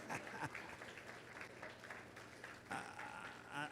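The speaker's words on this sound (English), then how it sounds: "Give him a round of applause." An audience applauds for a company's chief financial officer at a live-streamed corporate event, a steady wash of clapping with a few louder bursts, fairly quiet overall.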